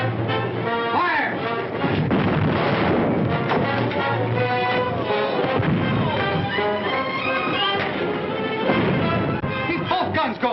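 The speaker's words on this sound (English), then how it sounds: "Keep both guns going." Naval guns aboard a warship fire in a battle, heavy booms landing amid a dense, continuous din of shouting voices and clatter, loud and close throughout.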